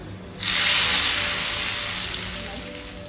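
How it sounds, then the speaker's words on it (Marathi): A phodni tempering of hot oil is poured over vegetables for methi lasooni, bursting into a sudden loud sizzle that then slowly fades, with no talking. "तर ह्याच्यावर टाकते मी फोडणी."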